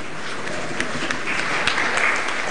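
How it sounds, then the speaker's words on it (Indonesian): Hall audience at an Aceh regional election debate applauds loudly and continuously, a dense wash of clapping with a few sharper claps standing out. "mari kita berikan aplaus untuk kita semua dulu"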